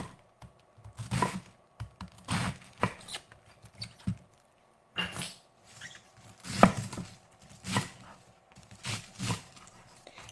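A knife chops cabbage on a board in a steady series of dull, close thuds, loosely rhythmic with brief pauses between strokes, over a faint background hum.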